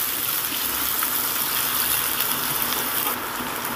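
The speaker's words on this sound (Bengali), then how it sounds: "ডুমো ডুমো করে কাটা আলুগুলোকে একটু ভেজে নিতে হবে।" Diced potatoes frying in oil in a pan while being stirred, a continuous loud crackling sizzle with bright hiss, close and unbroken, no speech over it.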